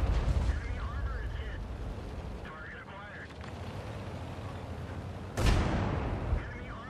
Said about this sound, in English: T-30 just fired.